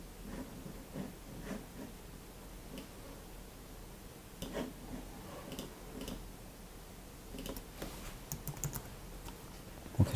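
Keys clatter on a computer keyboard as text is entered into Autodesk 123D Design, a quiet run of soft, irregular taps over faint room hiss, with a few sharper clicks near the end.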